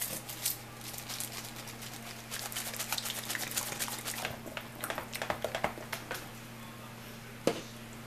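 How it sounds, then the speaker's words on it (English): Oil for soap-making, with colorant added, shaken inside a container: a soft, steady liquid sloshing and rattling with irregular bursts, fairly quiet and close, with no voices. "so here I am shaking up my oil"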